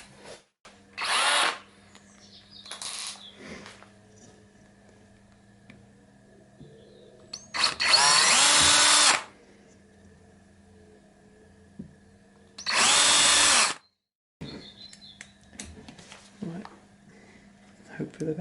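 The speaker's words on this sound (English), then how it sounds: "So what we'll do is grind the back of that off." A power tool grinds off the back of a threaded part for a router table depth gauge, in several loud, high-pitched bursts of a second or two each, separated by quieter gaps with talking.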